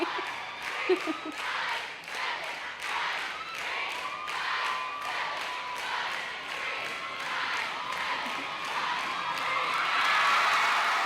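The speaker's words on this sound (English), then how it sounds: "as you got towards the end, you kind of hear the crowd build with their excitement" Crowd at a cheerleading competition cheering and clapping toward the end of a routine, a broad wash of noise with whoops that swells and grows louder in the final seconds.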